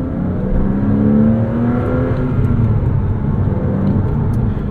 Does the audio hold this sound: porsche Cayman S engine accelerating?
yes